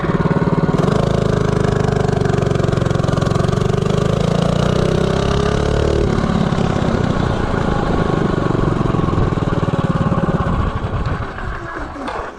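A 212 Ghost small engine with a 4:1 ratio accelerates from 0 to 30 during a speed run, a loud, close, steady droning whine that rises in pitch, then tails off as it slows at the end.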